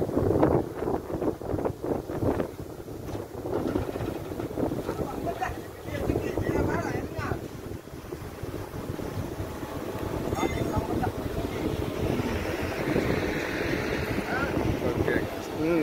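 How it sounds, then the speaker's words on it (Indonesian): A ship rumbles low and steadily amid heavy wind buffeting the microphone, with people talking over it throughout. "Ah, ini dia kapal."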